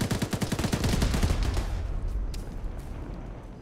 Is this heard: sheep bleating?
no